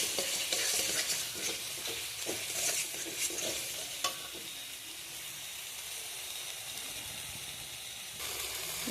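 Spice paste sizzles and spits in oil while being stirred for a green jackfruit curry. Scraping stirs and bubbling crackles sound close, then ease to a softer steady fry before the stirring resumes near the end.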